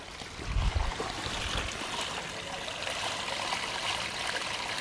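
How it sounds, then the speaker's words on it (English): Water trickles and splashes steadily from the overflow of a spring box beside a trail at Dark Hollow Falls in Shenandoah National Park, a soft continuous babble with a brief low thump near the start. "There's some water coming out of the overflow"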